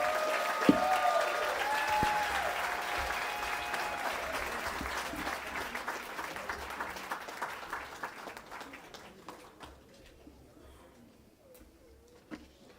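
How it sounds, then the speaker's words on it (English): Applause for a commencement speaker fills a 2024 graduation ceremony in Southern California, moderately distant and gradually thinning into scattered individual claps before dying away. "Let's give him one more round of applause."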